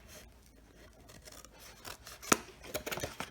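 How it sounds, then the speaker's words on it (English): Scissors snip through the corner of a plastic binder, a few soft rubbing sounds leading to one sharp close cut and then a quick run of smaller snips, with no speech. "You're going to cut the corner"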